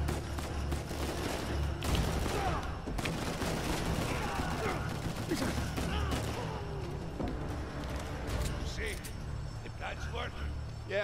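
Gunfire in the action game Uncharted 4, with faint bursts and single shots mixed into busy game sounds and a player talking over them throughout.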